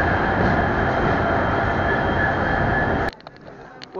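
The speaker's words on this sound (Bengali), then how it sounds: "3 মিনিটের পর আমাদের এখন ট্রেন ছেড়ে দেবে রঙ্গিয়া জংশন থেকে।" A train at Rangia Junction railway station on the Brahmaputra Mail, a loud steady rumble of the rail cars that cuts off abruptly near the end, leaving faint scattered noises.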